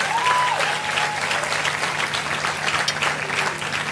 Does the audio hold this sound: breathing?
no